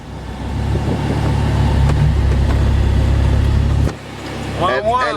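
A right-hand-drive car's engine rumbles loudly and steadily up close as it pulls up, then cuts off abruptly, and a voice follows right after.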